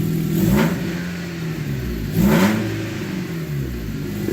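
A 2009 Dodge Caliber engine with its catalytic converter removed and small exhaust leaks revs up twice in sharp surges, each rising pitch swell falling back to a steady, close, loud idle, with no talking.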